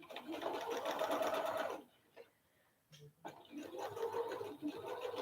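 Sewing machine stitching fabric for a raglan top, running in two steady, close bursts with a brief pause between them.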